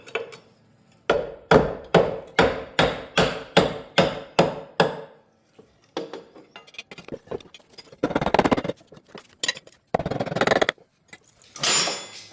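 Sharp repeated knocks of a chunk of 2x4 struck against a 15/16 wrench on a mower deck, about ten evenly spaced loud blows, followed by scattered clanks and scraping of parts.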